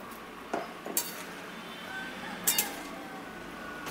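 Sugar being added to a pot of simmering jujube (kul) chutney, heard as a few separate metallic spoon-against-pot clinks and scrapes, close but fairly quiet over a faint background hiss.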